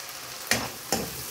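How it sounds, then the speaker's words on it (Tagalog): Shrimp hit a hot pan with garlic and onion, giving two sharp bursts of sizzling about half a second apart, each flaring up and then settling into a quieter crackle. "Ilagay na natin ang ating shrimp."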